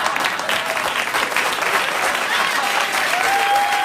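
Studio audience applause on a late-night TV talk show, a dense steady wash of clapping holding at full level throughout with no gaps.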